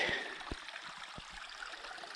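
Carpathian mountain spring water runs in a soft, steady trickle, faint and close, with a few brief knocks over the flow.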